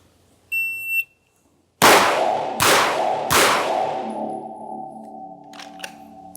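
A short shot timer beep sounds, then three loud pistol shots ring out in quick succession at a shooting range, each leaving a long echoing tail.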